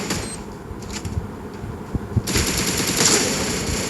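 Rapid automatic gunfire in a mobile battle royale video game, dense repeated bursts that grow louder and more sustained halfway through, with no talking.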